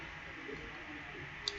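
Computer mouse clicks while working in Civil 3D software, a few quick soft clicks near the end of an otherwise quiet stretch.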